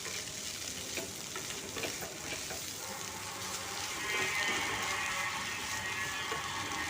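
Spiny gourd (kakrol) frying in ghee in a pan, a steady quiet sizzle with faint scraping as it is stirred, growing slightly louder toward the end.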